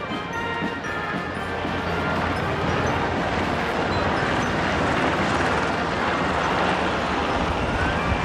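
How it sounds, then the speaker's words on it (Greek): An MH-60R Romeo navy helicopter passes over the March 25th military parade in Athens, a loud, steady broadband roar of rotor and engine noise filling the air without letup. "Αυτή τη στιγμή βλέπουμε το MH-60 Romeo."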